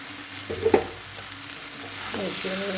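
Washed, drained flattened rice tipped into a hot pan and stirred for chirer polao, giving a steady soft sizzle with a couple of scraping stirs near the start.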